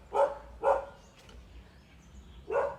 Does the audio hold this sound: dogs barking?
yes